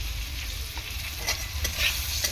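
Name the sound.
potatoes sautéing in pan with spices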